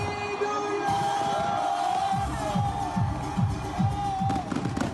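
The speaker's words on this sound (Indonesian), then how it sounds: "Pesta kembang api yang berlangsung sekitar setengah jam ini sempat membuat lalu lintas terhenti." Fireworks crack and thump in a long series of sharp low bursts beneath a steady hum of a large outdoor crowd celebrating New Year, with whistling rockets rising and scattered shouts throughout.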